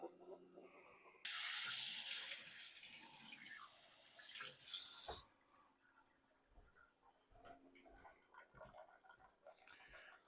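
Coffee pours steadily into a cup for several seconds from a pod coffee maker set to a 6-ounce pour, a bright rushing stream that stops abruptly, followed by quieter drips and small clinks.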